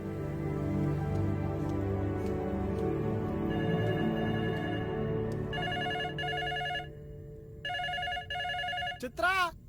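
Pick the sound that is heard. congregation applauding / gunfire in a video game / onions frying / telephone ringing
telephone ringing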